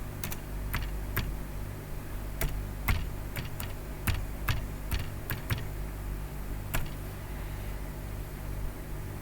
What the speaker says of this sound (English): why am I even typing in this thing alone?